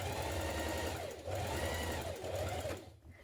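A sewing machine runs steadily while stay stitching blouse fabric between side notches, a close whirring hum with a rapid needle patter, slowing briefly twice before stopping at the end.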